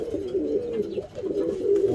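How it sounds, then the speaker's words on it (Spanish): Pigeons in a breeder's loft coo in low, repeated rolling calls, close and continuous, with several birds overlapping. "Los palomos que llegan a tu casa haciendo ruedas"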